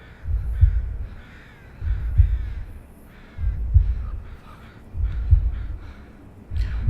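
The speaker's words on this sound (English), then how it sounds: "Got a little heartbeat sound effect on there." A Unity horror game plays a heartbeat sound effect: a steady, slow run of deep, throbbing thumps, about five beats, with faint raspy higher noises drifting above, loud and close, with no talking.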